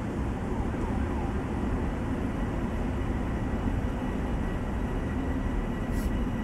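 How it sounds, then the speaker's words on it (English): A train in the video game Train Sim World, on the Long Island route, gives a steady, loud, broadband rumble and roar throughout with no breaks, as if heard from inside or beside the moving train, with no talk. "Now we're going to be taking a bit of a train journey here,"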